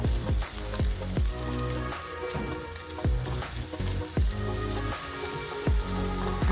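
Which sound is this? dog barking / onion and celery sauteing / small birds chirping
onion and celery sauteing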